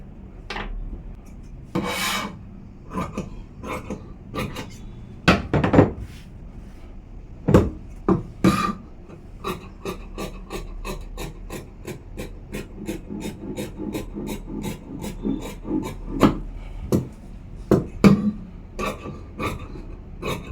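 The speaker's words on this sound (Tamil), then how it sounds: "இப்போ நான் வந்து உங்களுக்கு பேக் வெட்டி காமிச்சிடுறேன்" Scissors cut through blouse fabric in a long series of short, crisp snips with brief pauses between, close and fairly loud with no talking over them.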